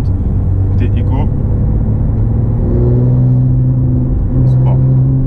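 A Porsche 911 engine pulls steadily in fourth gear leaving a village, a loud continuous drone with rising harmonic tones heard from inside the car.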